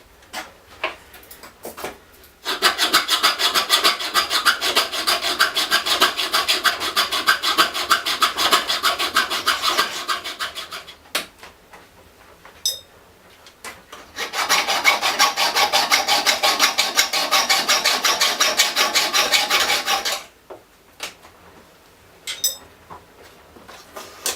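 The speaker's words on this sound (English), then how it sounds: "use a junior hacksaw and actually cut them off" A junior hacksaw rasps back and forth in quick, steady strokes cutting off screw tips, through two long cutting bursts separated by a brief pause with a few light clicks.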